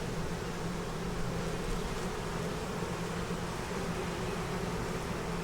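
Honey bees swarm around an open, honey-producing hive, their dense, continuous buzzing droning steadily and close, with no talk over it.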